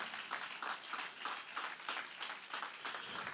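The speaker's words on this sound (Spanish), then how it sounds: "Dele fuerte ese aplauso a Cristo." Applause from a church congregation, a dense wash of many hands clapping with a loose rhythmic pulse, steady and moderately distant, with no talking over it.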